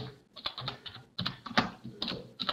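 Quick, irregular keystrokes on a close computer keyboard as a search term is typed, in short bursts with brief pauses.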